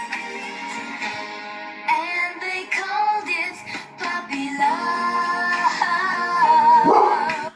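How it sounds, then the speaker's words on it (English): Dogs barking and whining in the background of a home, tonal yelps and howl-like cries layered over a continuous musical backdrop, fairly loud throughout. "And my dogs are going to bark in the background."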